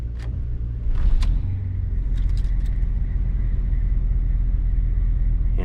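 A Newell coach bus engine cranks and catches, then settles into a steady low diesel rumble at idle, loud and close, with a few light metallic clicks early on.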